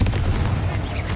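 Confringo fire-blast spell in Hogwarts Legacy, a single heavy booming explosion hit at the start that rumbles briefly and fades into ongoing game noise.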